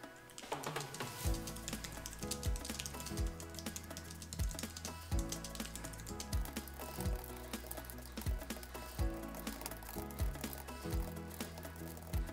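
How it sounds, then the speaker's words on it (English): Rapid typing on a Logitech MX Keys computer keyboard during a typing speed test, a steady clatter of keystrokes running continuously and close up with no talking. "here I come to embarrass myself on public on my typing skills"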